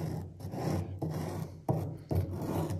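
Excess earth being scraped off the top of an earth block in its mold, heard as four close, gritty rasping strokes in a loose rhythm with brief gaps between them.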